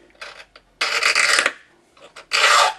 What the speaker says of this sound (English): gradually straightening the key up until you've got a small groove, then do your filing